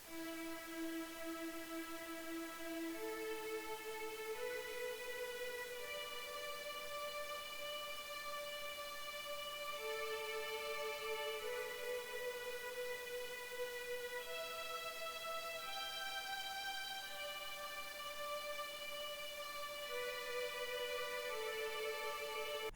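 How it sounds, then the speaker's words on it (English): String ensemble preset playing a slow sustained chord pattern in an FL Studio beat, long held tones shifting step by step, steady and alone with no other instruments. "So I just added this string pattern."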